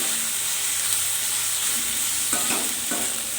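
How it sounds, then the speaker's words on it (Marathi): Dried fish frying in a pan as spices, including homemade black chili powder, are stirred in, giving a loud continuous sizzle with a few brief scraping strokes near the end. "आता हे मसाले छान असे ह्याच्यामध्ये मिक्स करून घ्यायचे आहेत"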